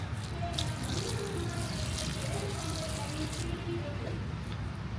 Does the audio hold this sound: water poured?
yes